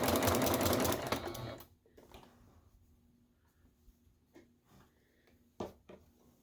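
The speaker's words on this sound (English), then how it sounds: "I'm sewing the binding to the back, raw edge to raw edge" A sewing machine stitches binding onto the back of a quilted fall table runner, raw edges aligned, running in a loud steady burst for under two seconds before stopping, followed by faint handling clicks and a short thump.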